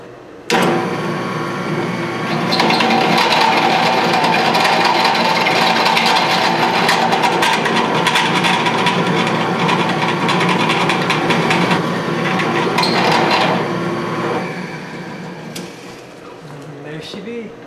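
A drill press drilling steel runs loud and steady for most of the clip, a whirring motor with rough grinding texture, then winds down near the end.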